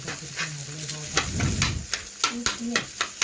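Beaten egg being stirred with salt in a pan for a potato, carrot and egg tiffin recipe, with sizzling and repeated scraping stir strokes in a quick rhythm, close and clear, while someone talks over it.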